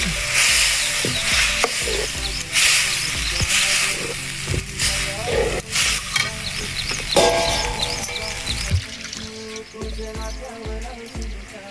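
Safflower-leaf vegetables sizzle loudly in hot oil tempering, with intermittent metallic scraping and clanks of stirring throughout.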